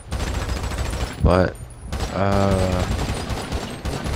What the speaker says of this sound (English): Is there a gunshot?